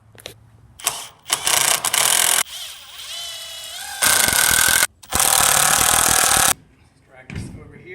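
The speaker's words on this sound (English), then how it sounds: "and then we're going to tack the plywood on" A power tool tacks plywood onto a wooden BMX ramp in three loud, sustained mechanical bursts, separated by quieter stretches of handling noise and faint voice sounds.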